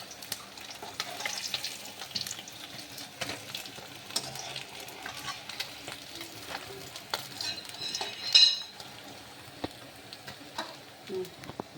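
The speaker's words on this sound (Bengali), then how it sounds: "মাছগুলি কড়া করে ভাজা হয়ে গেলে এরপর একটা পাত্রে তুলে নেব" Katla fish pieces fry crisp in oil in a pan for doi katla, a continuous soft sizzle with occasional crackles, spatters and clinks of a utensil against the pan.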